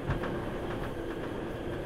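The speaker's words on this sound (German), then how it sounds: "Schön, dass wir auch die ganze Zeit auf dem kalten Gleis fahren." MVG Type A metro train in the Metro Simulator game, a low continuous rumble of wheels on rails with faint rhythmic clicks, steady and fairly close.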